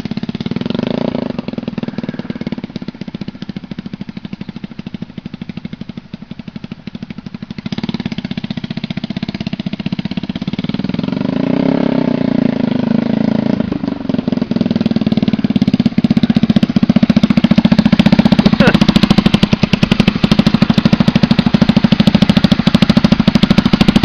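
A Japanese motorcycle engine runs steadily, revving and rumbling up close, growing louder over the span with no voices.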